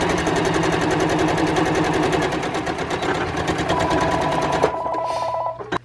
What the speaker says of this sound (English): She's still working on sewing the tops and bottoms of the masks.